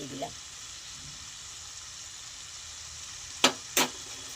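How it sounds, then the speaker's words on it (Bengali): Simmering cauliflower curry bubbles with a soft, steady sizzle after ghee is sprinkled over it, faint and even, ending with two brief sharp bursts near the close. "এখন আমি নামানোর আগে একটু সামান্য ঘি উপর থেকে ছড়িয়ে দিলাম।"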